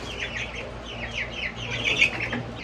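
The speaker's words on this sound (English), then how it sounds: "So lastly, for the chickens, we have these 5 new chicks that Shannon got while we were on vacation." Chickens on a farm cluck and squawk in a run of chattering, rising calls close to the microphone, layered over a low steady background hum, with no talk.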